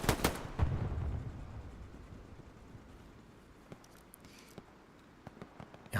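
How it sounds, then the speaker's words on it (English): A rocket launches loud and close in Hell Let Loose during a 49-versus-49 console battle at Foy's southern edge, its blast rumbling and fading over a second, followed by scattered distant gunfire cracks. "Rocket goes off to his left."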